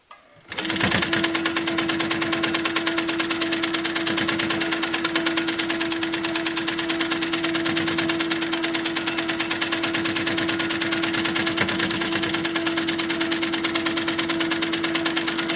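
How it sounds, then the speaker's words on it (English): A sewing machine free-motion quilting a pieced mini quilt starts with a short jolt and then runs at a fast, even, rapid stitching pace, a close, loud mechanical chatter that holds steady to the end. "It's free motion quilting."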